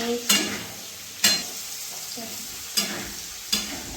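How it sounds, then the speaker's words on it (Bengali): Onions frying in a pan for a Bengali rita fish dish, with a continuous soft sizzle and four distinct spatula scrapes spaced a second or so apart, heard up close without speech. "তো পেঁয়াজটা ভাজা হয়ে এসছে"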